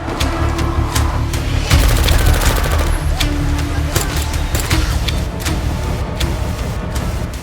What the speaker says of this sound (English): Rahman had no choice but to shoot, but the gunfire drew even more zombies toward them.